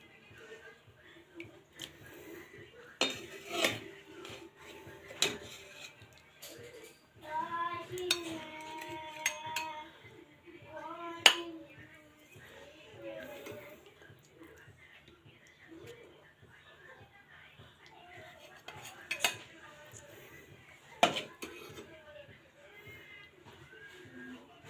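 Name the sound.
serving rohu fish curry with utensils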